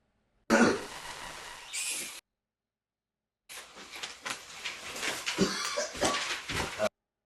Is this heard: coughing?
yes